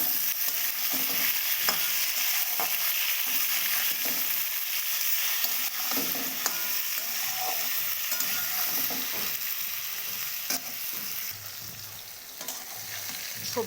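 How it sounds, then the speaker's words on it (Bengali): Vegetables such as drumsticks and pointed gourd fry in a pan for a tangra fish dish, a close, constant sizzle broken by repeated scraping and knocking of a spatula as they are stirred. "সবজিগুলো আমার ভাজা হয়ে গেছে।"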